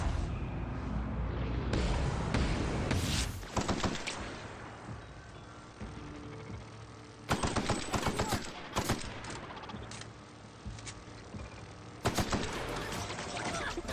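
Rapid weapon gunfire in The Outer Worlds, with dense bursts of shots that return in several volleys, loud and close over a continuous game soundscape.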